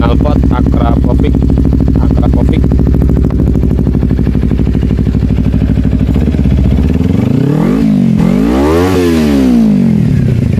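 A loud two-cylinder Kawasaki Ninja 250 supermoto engine with an Akrapovic exhaust idles with a lumpy, throbbing beat, then revs up and down in sweeping surges before settling back.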